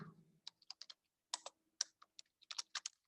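Quick, close clicks of a computer keyboard as Python code is typed, coming in uneven bursts of keystrokes with short pauses and no talking.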